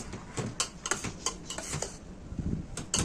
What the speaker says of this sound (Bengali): সুজিটা দিয়ে ভালো করে মিশিয়ে নেব।